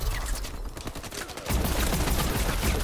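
A new combined light machine gun and shotgun fires in the video game Call of Duty: Advanced Warfare, a quick burst of shots followed by sustained rapid fire that grows louder and steadier halfway through.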